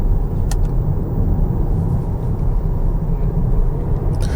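A 2026 Jeep Cherokee Overland with a 1.6-liter engine cruising on a road, heard from inside as a steady low road and engine rumble that holds even throughout, with no talking.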